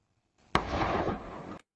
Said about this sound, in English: That's a gunshot.